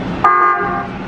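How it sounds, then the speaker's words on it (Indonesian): A single loud electric horn blast from a KRL JR 203 commuter train sounds close by, a sustained bright tone lasting under a second. "Bang, klakson bang."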